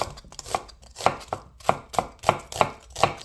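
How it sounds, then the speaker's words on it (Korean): A knife chops an onion into thick pieces on a board, giving about nine sharp, evenly spaced chopping knocks at close range. "그러면은 우선 먼저 야채를 먼저 썰을게요. 양파를 좀 두껍게."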